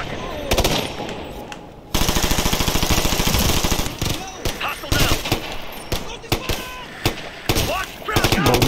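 Loud automatic gunfire rips through a shooter video game in long rapid bursts, then shorter volleys and single cracks separated by brief pauses.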